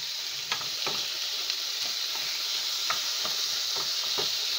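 Food fries in a hot pan with a steady, bright sizzle, broken by occasional clicks and scrapes from stirring, close and continuous.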